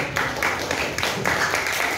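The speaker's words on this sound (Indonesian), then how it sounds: "Sebelumnya kasih tepuk tangan dulu." A small group in a biology classroom claps together, a brief burst of applause with a voice murmuring underneath.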